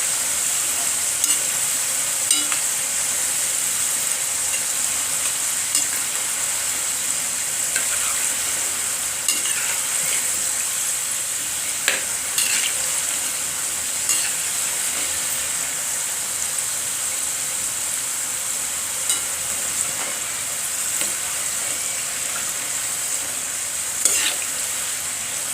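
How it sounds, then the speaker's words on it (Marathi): Kapnya snacks deep-frying in hot oil, with a constant bright bubbling sizzle over a long stretch and occasional small clicks and pops. "सर्व कापण्या एकसारख्या तळल्या पाहिजेत."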